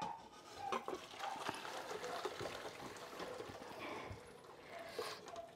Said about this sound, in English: So strain the pasta.